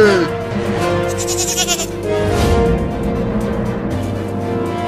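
Goat bleating, repeated quavering calls from nearby over a busy outdoor background with a faint vehicle hum, in a chase scene with a child running.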